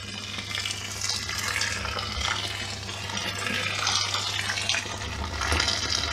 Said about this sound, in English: And now I will pour my hot water in